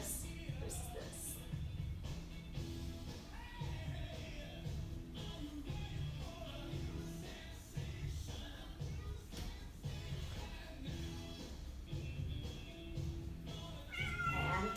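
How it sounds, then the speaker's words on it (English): A house cat meows repeatedly near a home yoga session, several fairly close, drawn-out calls spread through the stretch over a steady low background, with little talk. "I've got a kitty visitor."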